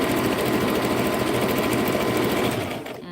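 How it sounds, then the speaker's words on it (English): A sewing machine, model LX3817G, stitching around an index card on decorative stitch setting 17, a fast close rhythmic whir that runs steadily and then winds down and stops near the end. "I'm literally just sewing around my index card."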